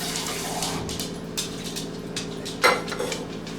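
Canned black beans rinsed under a running kitchen tap, a steady close stream of water with a brief splash near the end and no talk.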